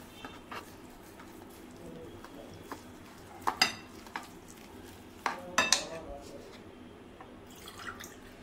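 Water is poured into Maggi noodle dosa batter and stirred in a bowl, giving soft trickles, wet sloshing and a few sharp spoon-on-bowl clinks, quiet and close, with a voice talking at times.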